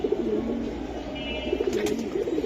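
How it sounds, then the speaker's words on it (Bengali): Pigeons coo softly and continuously at a pigeon seller's loft, their low rolling calls layered over a steady hum of background noise, with no one speaking. "এই যে আরেকটা কবুতর"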